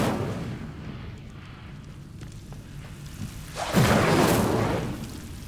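A fire spell cast in the wizarding video game Hogwarts Legacy, a low rumbling backdrop that swells into a loud whooshing, crackling burst of flame near the end, with no talk.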